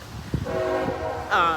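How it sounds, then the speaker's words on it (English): A train passes near a park and sounds its horn with a sustained tonal blast that swells louder toward the end. A voice is heard faintly beneath it. "Excuse the train in the background."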